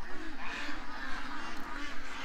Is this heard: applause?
no